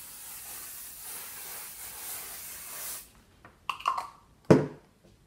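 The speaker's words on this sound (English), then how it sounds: "I'm just going to give it a light spray" A can of fabric spray adhesive gives a continuous close hiss for about three seconds before stopping, followed by a few faint handling sounds and a louder knock, probably the can being set down on a desk.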